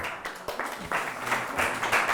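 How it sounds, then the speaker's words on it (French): Audience in a psychoanalysis lecture hall giving brief, moderate applause at the end of a talk, a short burst of scattered clapping at fairly low level. "Oh, on ne va pas trop applaudir."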